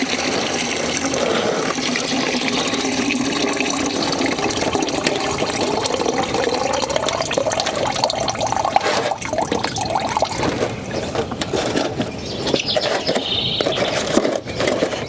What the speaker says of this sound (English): I get the water out of the container so we don't have root rot issues